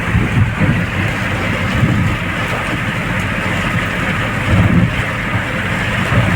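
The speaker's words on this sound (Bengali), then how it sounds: "বৃষ্টি পড়ছে কী করে কী হবে ওটাই ভাবছি" Steady rain falling outdoors, a dense, unbroken hiss with low rumbling swells, heard alone without talk.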